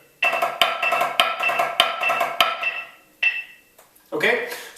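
A snare drumline exercise plays a triplet grid with a diddle on each downbeat and an accent on the third partial, heard as fast, bright rhythmic strokes with sharp accents for about three seconds, followed by a few short bursts.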